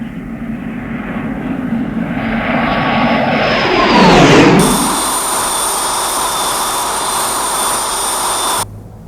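Airplane passing close overhead near an airfield, a loud engine roar that builds, sweeps down in pitch as it goes by, then settles into a steady whine before cutting off abruptly.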